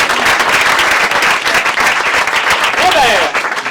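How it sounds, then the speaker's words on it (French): An audience at an amateur adult theatre class's end-of-year show in Paris claps steadily and densely, with a few voices mixed into the applause. "on peut applaudir Robert"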